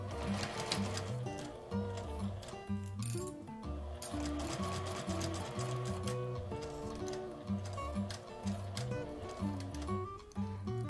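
A sewing machine stitches along an L-shaped zipper curve, its needle chattering in a fast, steady rhythm with brief pauses and restarts, close and clear with no talking.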